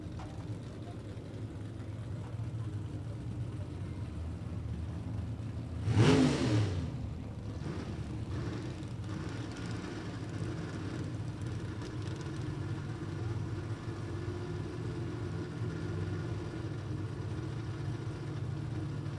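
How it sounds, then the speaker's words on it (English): A K-altered automatic four-cylinder Bantam race car engine at a drag strip qualifying session, with a single loud burst of revving around six seconds that stands out over a steady rumbling background. "Going to be up alongside Chad Bogus, the little K-altered automatic 4-cylinder."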